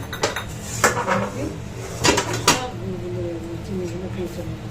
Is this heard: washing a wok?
yes